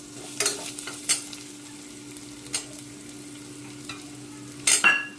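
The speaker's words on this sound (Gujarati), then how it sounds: "પછી આ ટાઈમે આપણે એક બટેકું સુધારીને રાખ્યું છે એ એડ કરી દઈશું." Diced potato being stirred into hot oil in a pressure cooker while cooking veg soya chunks pulao, with a soft steady sizzle and several sharp scraping stirs of a spoon against the pot.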